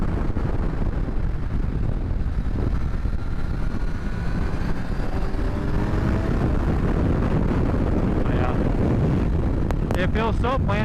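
Heavy wind buffets the microphone while riding a 2021 Kawasaki 1000SX motorcycle on a windy day in traffic. A constant loud roar dominates, with the engine droning underneath.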